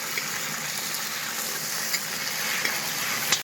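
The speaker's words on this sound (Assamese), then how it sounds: "আলুটো ভাজি কৰি লওঁ।" Potato pieces fry in hot oil with a dense, steady sizzle and crackle close up, continuous and even until a brief clatter at the very end.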